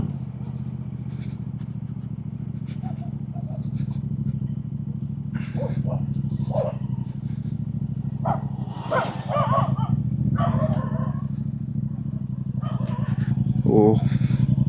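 Dogs bark in short, scattered bursts beside the road during a group motorcycle ride from Gurgaon to Faridabad, sitting just above a loud, steady engine and road drone.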